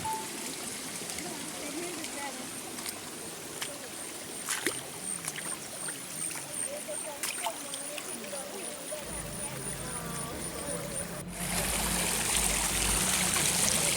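Shallow stream water runs over rocks at Viripara near Athirappilly in Thrissur district, low in the dry season, giving a steady broadband rush that swells louder for the last few seconds.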